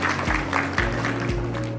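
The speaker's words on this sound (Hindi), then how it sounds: "तो तालियों के साथ स्वागत करेंगे" Audience applause at a book launch, a steady wash of clapping that fills the whole short stretch, with faint sustained tones running underneath.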